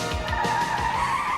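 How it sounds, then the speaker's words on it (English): A skid control car slides with a sustained, loud tire squeal and a steady whining tone, heard close and without talk. "After a quick spin in the skid control car"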